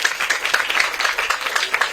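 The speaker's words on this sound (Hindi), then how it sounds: "खुशी के लिए ताली बजाओ।" A crowd of people clap in steady, dense applause at a political gathering, loud and close, with no talk heard over the clapping.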